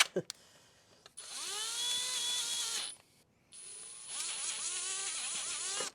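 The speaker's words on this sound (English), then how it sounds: "We're going to come in here and we'll drill this out." A power drill drilling out an engine oil drain plug whines through two long bursts separated by a short pause, its pitch rising as the motor spins up, heard close and loud.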